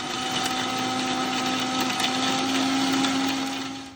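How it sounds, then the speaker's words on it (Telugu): A mixie blender grinds lemon juice, ice cubes and water with a loud, steady motor whine that holds for several seconds before cutting off at the end. "నిమ్మరసం ఒక కాయ జ్యూస్, ఐస్ క్యూబ్స్, వాటర్. ఇప్పుడు ఇవన్నీ మిక్సీ చేసేసుకోండి మెత్తగా."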